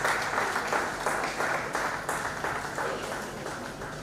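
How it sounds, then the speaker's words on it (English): An audience at a Nigerian export promotion council gathering applauds their host, a full round of many hands clapping that starts strong and gradually tapers off, fairly close and even. "Let us give a round of applause to our host"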